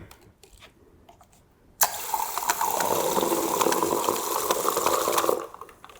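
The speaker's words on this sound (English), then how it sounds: "And then we're going to top it up with a little bit of soda water." Soda water pours steadily into a glass of Campari cocktail for a few seconds, a bright fizzy splashing stream that starts abruptly and stops, with quiet clinks before.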